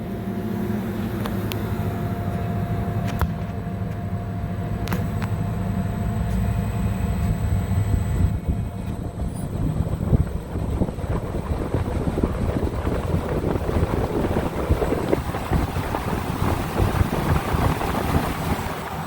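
A machine spinning a slightly wobbling wheel makes a loud, continuous mechanical roar with a rumbling, rattling texture that grows rougher and more clattery partway through, with no talking.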